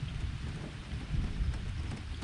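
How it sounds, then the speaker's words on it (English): Soft, steady rain hisses with a low rumble underneath at an old roadside cafe behind Faisal Mosque, quiet and continuous with no voices. "There's just something so pleasant about the rain"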